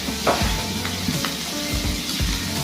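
Pork fat sizzles loudly in hot cooking oil in a pan for Filipino bopis, a steady close crackle with a few soft stirring scrapes and no voices.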